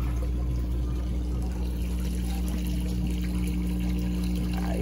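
Clean water pouring out of a homemade fish pond filter, a steady, close, continuous rushing flow with a strong low hum underneath and no talking.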